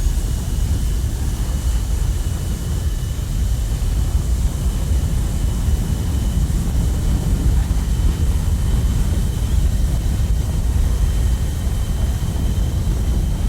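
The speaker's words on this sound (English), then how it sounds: "Now that we're off the ground, we're going to go ahead and raise our gear and our flaps and start to pick up some speed." An F-14 jet in a flight simulator game gives a steady, loud, broadband roar of engine and wind noise that stays even throughout, with no voices.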